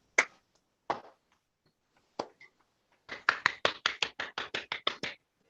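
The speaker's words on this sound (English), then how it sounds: "give Ben a round of applause for coming in and giving us some great advice" Participants on an online video call clap for a guest, starting as a few isolated sharp claps and then building into a quick run of about a dozen crisp, close claps.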